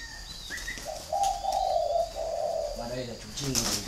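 Spotted doves kept as caged birds give soft, low repeated coos, fairly close, with a few higher chirps and faint background noise.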